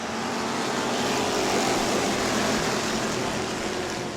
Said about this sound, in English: As the green flies, John Gross, the pool boy, is on the loud pedal and pulling away.